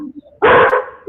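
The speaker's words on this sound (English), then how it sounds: "My dog." A dog barks once in a loud, close burst lasting about a third of a second, breaking into a studio radio interview, with quiet talk before it and a voice resuming right after.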